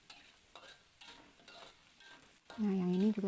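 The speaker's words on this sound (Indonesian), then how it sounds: "Nah, yang ini juga tetap lanjut digoreng-goreng." Stir-frying in a pan: close, rhythmic scrapes and sizzling bursts repeat about twice a second, then a louder, fuller patch of noise closes the clip.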